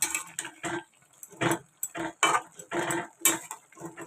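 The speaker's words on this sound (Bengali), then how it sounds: "এরপর আমি ঢাকনাটা খুলব" Metal pot lid lifted off a cooking pot of something boiled in a home kitchen, with a series of close clinking, clattering metal contacts in irregular bursts.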